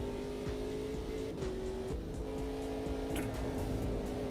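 Race car in a video game sliding through a corner on four wheels, the engine droning at steady revs with brief tire-scrub texture, loud and continuous with no voices.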